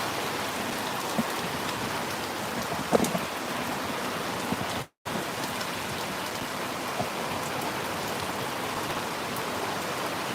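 Steady, dense rain pours down in Misamis Occidental, Philippines, without letup, a loud continuous hiss broken only by a brief dropout midway.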